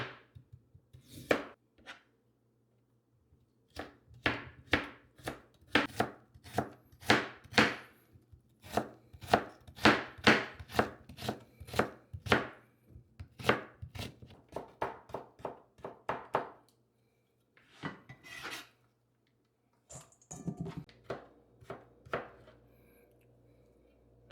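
A knife chops food by hand on a board in quick runs of crisp, close knocks. The runs stop and start, with short pauses between them, and nobody talks.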